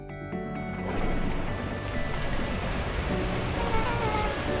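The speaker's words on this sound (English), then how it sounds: "the heavens opened up, unleashing torrential rain" Heavy rain in the video game Beacon Pines swells in and keeps pouring in a steady, dense wash, fairly close, with no voices over it.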